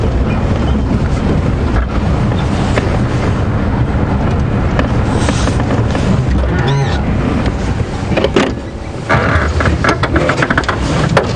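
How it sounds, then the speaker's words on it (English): Safari vehicle engine running on a morning game drive at Djuma Game Reserve, a loud, steady rumble with wind buffeting the microphone throughout, briefly dipping near the end. "Djuma doesn't have a quiet engine."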